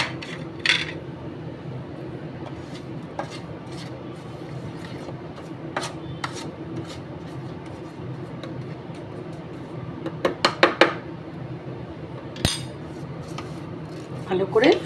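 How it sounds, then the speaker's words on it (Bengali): A spoon stirs dry spices, salt and black pepper together in a bowl, with soft scraping under a steady background hum broken by sporadic metallic clinks and taps that bunch up near the end. "ভালো করে শুকনো মশলাটাকে আগে মিশিয়ে নিচ্ছি।"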